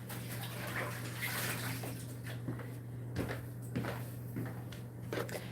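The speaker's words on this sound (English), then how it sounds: "Let me rinse my hands off." Running water in a home kitchen as hands are rinsed, a steady hiss from the tap with small splashes and clunks, fairly close and moderate in level, with no talking.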